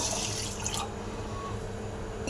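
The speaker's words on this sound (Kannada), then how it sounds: "ಅದೇ ಕಪ್ ಅಳತೆಗೆ ಒಂದು ಅರ್ಧ ಕಪ್ಪು ನೀರು ಹಾಕ್ಕೊಳ್ಳೋಣ" Half a cup of water is poured into a blender jar already holding pomegranate seeds, sugar and milk: a short splashing pour near the start, then a quiet, still tail with faint drips.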